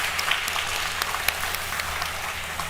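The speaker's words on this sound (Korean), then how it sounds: "성도 여러분, 다시 한번 뜨겁게 박수 부탁드립니다." A church congregation at a Sunday worship service applauds warmly, a dense steady wash of many hands clapping with no one speaking over it.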